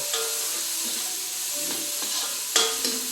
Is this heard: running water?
no